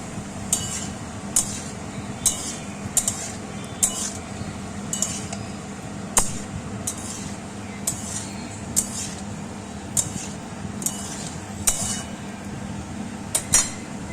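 Ridge gourd and potato are stirred in a pan, giving repeated light scraping clinks of a utensil against the metal at a steady, unhurried rhythm over a low background hum.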